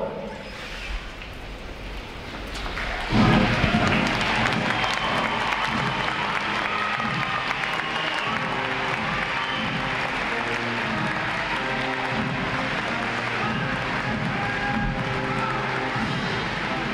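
Sustained applause from a large audience at a U.S. Navy recruit training graduation ceremony, a broad steady wash of clapping that swells in after a quieter opening and continues evenly throughout.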